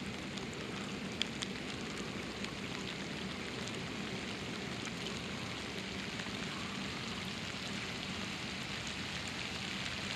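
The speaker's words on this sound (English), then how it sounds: "Oh man, that rain." Rain patters steadily onto a water surface during fishing for bluegill and crappie, a soft, even hiss of dense drops that stays constant and fairly faint throughout.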